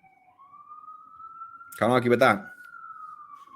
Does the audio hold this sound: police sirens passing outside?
yes